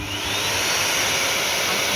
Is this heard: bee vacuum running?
yes